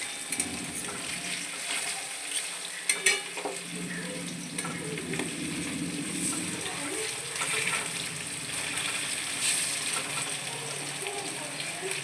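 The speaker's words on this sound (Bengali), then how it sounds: "দেখুন এদিকে আমার ভাজা হচ্ছে, কোপ্তা ভাজা চলছে।" Kofta sizzles steadily in hot oil in a pan, a dense, continuous frying hiss with a few brief clinks near the start and no clear speech.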